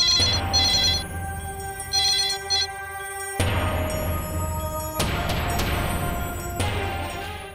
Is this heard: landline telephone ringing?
yes